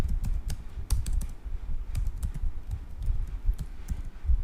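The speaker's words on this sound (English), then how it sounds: "so I'm going to type in 48 and then a comma" Fast typing on a computer keyboard, close and steady, a dense patter of key clicks with a few heavier thumps and no voices.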